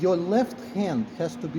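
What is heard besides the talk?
No everyday noises stand out.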